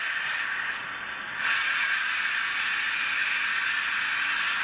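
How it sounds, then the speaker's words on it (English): Hornby TTS model steam locomotive letting off its safety valve, a continuous broad hiss of steam that swells louder after a second and holds steady, near and unbroken. "F9 safety valve."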